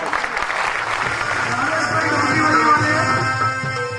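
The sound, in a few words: audience applause at a gathering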